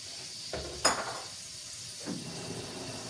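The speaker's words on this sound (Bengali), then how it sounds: "এখন আমি এটাকে ভালো করে মশলাটাকে একটু কষায় নেব।" A spoon scrapes and clinks in a pan as spice paste is stirred and fried, with a few short scraping strokes over a faint steady sizzle.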